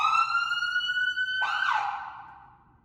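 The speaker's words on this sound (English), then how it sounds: "One push of the horn switch gets you the siren." A loud electronic fire engine siren wails at a steady pitch, then switches abruptly to a different sweeping tone that trails off.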